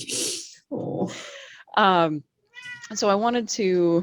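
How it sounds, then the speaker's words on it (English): A pet cat meows loudly several times, drawn-out rising and falling cries close to the microphone, alternating with a person speaking nearby. "Sorry, that's my cat."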